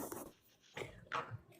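A dog gives a few short whimpering, yipping sounds up close, broken by brief pauses, with no clear speech alongside.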